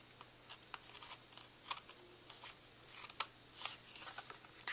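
Scissors snip through paper while a handmade greeting card is trimmed, a series of quiet, sharp, irregular cuts spread across a faint, steady background hum, with no voices.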